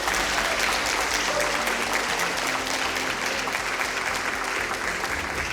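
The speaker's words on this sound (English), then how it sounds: "we really, really want to once again applaud you" An audience at a school matric gala applauds the graduates with a steady, dense wash of clapping that holds evenly throughout at moderate loudness.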